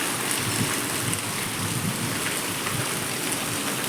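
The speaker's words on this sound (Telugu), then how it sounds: "విపరీతమైన గాలి వాన" Loud, continuous downpour with rushing wind through tamarind and coconut trees, a dense roar of rain close by that never lets up.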